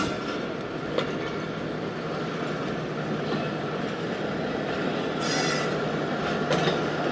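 The 40 Down Jaffar Express from Peshawar to Quetta rolls past on a loop line with a loud, steady rumble of wagons, wheel clatter and occasional squeals, heard close and continuously.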